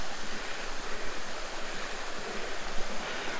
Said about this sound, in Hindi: जैसे जैसे ऊपर जाते जा रहे हैं ना, वैसे वैसे पानी का बहाव तेज होता जा रहा है।